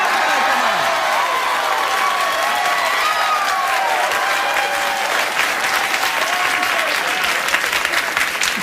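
A studio audience at a late-night comedy talk show applauds steadily and loudly, a dense sustained wash of clapping with a few whoops, holding at full level throughout.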